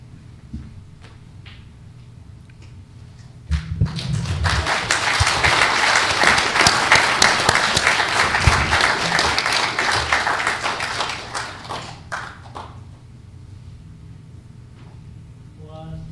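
An audience at an official portrait unveiling ceremony for Supreme Court Chief Justices breaks into loud, sustained applause lasting several seconds before tapering off, with quieter voices and movement before and after.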